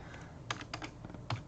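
Quick run of keystrokes on a computer keyboard as a file name is typed, close and crisp with a handful of distinct clicks and no talking.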